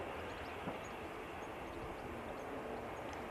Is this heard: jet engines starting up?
yes